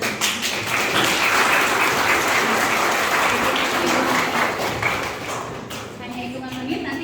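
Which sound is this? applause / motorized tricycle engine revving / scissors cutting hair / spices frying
applause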